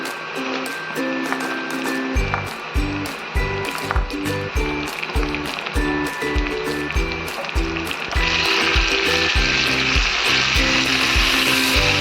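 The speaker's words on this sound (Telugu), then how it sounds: "ఇప్పుడు మనం బీన్స్ వేసుకుందాం" Beans sizzle steadily in a hot pan of oil for a beans-and-coconut fry, with bursts of stirring, and the frying grows louder and brighter toward the end.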